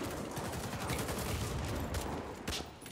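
Dense, continuous automatic fire from an AK-103 rifle in the online shooter Warface, with rapid overlapping shots that stay loud and close for the whole stretch and no voice over them.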